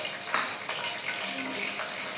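Bay leaf, black pepper, cardamom and cinnamon sizzling in hot oil, a dense steady crackle close up, with a few soft scrapes of stirring in the pan.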